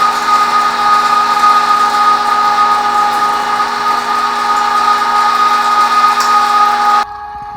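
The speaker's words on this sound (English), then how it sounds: "now I'm going to run it through again with the fine plate" A meat grinder pushes venison mixed with beef fat through a fine plate, giving a steady, loud motor drone with a grinding texture that cuts off abruptly near the end.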